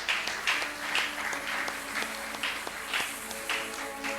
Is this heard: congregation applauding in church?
yes